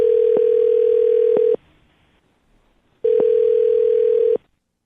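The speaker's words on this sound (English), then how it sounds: "I'm going to dial her phone number right now" Telephone tone sounds loud and steady in two long bursts separated by a silent gap while a phone number is being dialed, with no voices.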